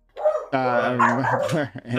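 A dog barks and yips close to the microphone in a few strained, voice-like bursts during an online panel discussion.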